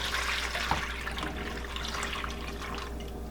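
A blended mixture is poured into a strainer at home, making a steady liquid rush and splash with a small drip-like plop early on and no one speaking.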